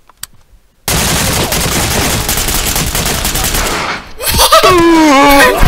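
Rapid bursts of gunfire from a video game, a police-themed shooter, rattle loudly and continuously for several seconds after a brief quiet start, then give way to excited voices talking and laughing.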